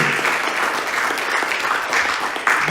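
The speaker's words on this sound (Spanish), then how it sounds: "aplauso a Jesús, hermanos, porque es digno de toda alabanza, de toda gloria" Congregation applauding in a church during a morning service, a dense, steady, loud clapping that holds for the whole stretch with a faint voice beneath.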